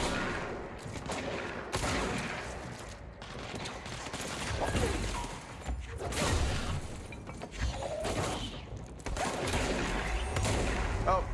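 Repeated heavy shotgun blasts in the game Control, booming in irregular bursts amid a busy action mix, with scattered shattering debris and a voice speaking over parts of it.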